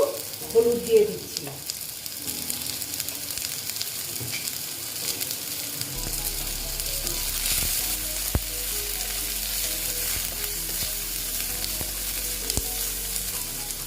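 Small fish and potatoes fry together in a pan with a steady, close sizzle, with a few soft clinks early on and faint handling noises throughout.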